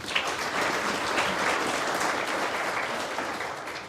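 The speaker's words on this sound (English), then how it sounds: "A warm round of applause, colleagues." Colleagues at a university high tea event give a warm round of applause, a sustained, fairly soft wash of clapping that fades slightly toward the end.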